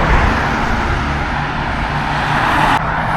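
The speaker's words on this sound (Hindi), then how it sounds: "गाड़ी की आवाज़ सुनो, काफ़ी ज़ोर से चल रही है।" Steady roar of cars speeding along a multi-lane highway in Muscat, heard from a footpath beside the road, loud and continuous with no clear gaps between passing vehicles.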